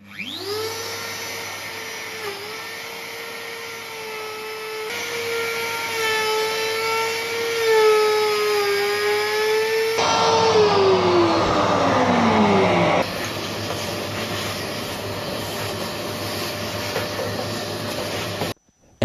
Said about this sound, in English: I don't have a CNC myself, but this job can also be done with a router.